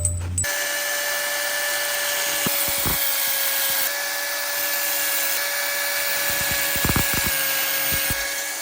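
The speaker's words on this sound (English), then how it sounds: "We're just gonna clean that up with the flap disc, weld her in place." Flap disc grinder cleaning rust off a winch chain, a loud steady high whine held for the whole stretch after a sharp start, with brief lower scraping bursts as the disc bites the metal.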